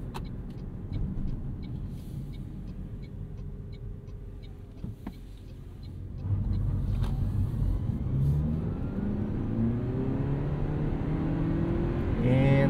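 A 2023 Toyota Prius Prime plug-in hybrid, about 220 horsepower, accelerates hard around a corner, its quiet cabin hum swelling midway into a steady, rising engine and road rumble.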